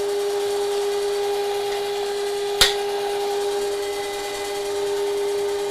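A milling machine cuts metal in shallow passes, giving a steady whining tone with one sharp clunk partway through, alone with no talk.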